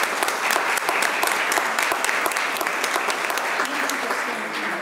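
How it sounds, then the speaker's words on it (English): An audience at a Board of Education meeting gives a round of applause, many hands clapping in a dense, steady wash with sharp individual claps standing out close by. "let's give them a big round of applause"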